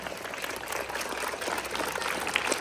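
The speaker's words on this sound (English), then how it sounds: "Clap it for 1 minute at least" Audience applause at a school honouring ceremony at Divine School in Tokha, Kathmandu: a steady wash of many hands clapping continues throughout at moderate volume, with no gaps.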